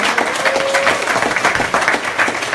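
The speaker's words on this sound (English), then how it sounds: "Let's give a clap for them" A church congregation at a Christmas celebration service claps for a young choir, a dense, steady wash of applause filling the room throughout.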